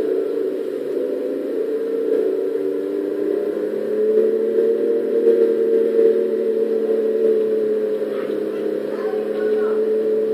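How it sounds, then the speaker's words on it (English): A car's engine in the video game Final Fantasy 15 hums with a low, steady drone, swelling slightly as it runs continuously at moderate loudness. "Now that sounds like the V12 of the 2014 Rolls-Royce Wraith."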